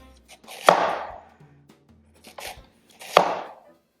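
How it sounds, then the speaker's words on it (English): A cleaver cutting thin slices of ahi tuna on a cutting board, giving three distinct knocks of the blade against the board with quiet gaps between them. "So first we're going to do reasonably thin slices with our cleaver."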